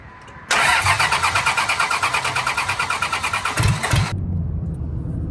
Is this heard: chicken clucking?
no